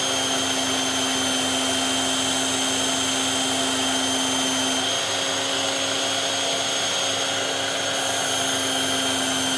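A belt grinder sharpens a knife blade, running fast on a high-grit belt with a steady, loud whine and motor drone that holds unbroken throughout, the tone shifting slightly midway.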